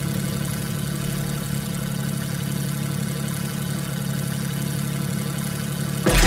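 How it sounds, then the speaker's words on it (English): A vehicle engine in a video game hums steadily at a mid-pitched idle with a faint whir, then surges louder right at the end as it revs. "And I just start engine."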